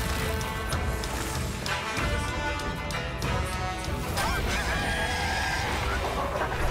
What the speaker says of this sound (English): I heard a little rooster in there.